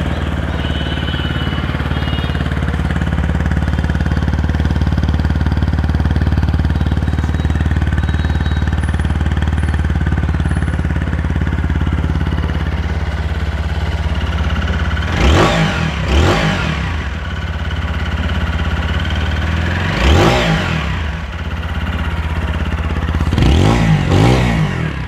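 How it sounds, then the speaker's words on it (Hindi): TVS Apache RTR 160 4V RM Edition motorcycle with race-tuned fuel injection, its engine holding a steady loud idle before three sharp throttle blips rev up and fall back near the end, no talking. "तो अभी एक बार बाइक का साउंड आप लोग को सुना देता हूँ।"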